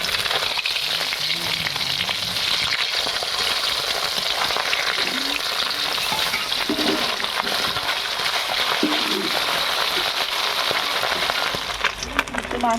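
Turned fasha fish keep frying in mustard oil, a dense, constant sizzle and spatter heard up close, with faint scraping touches and no voices.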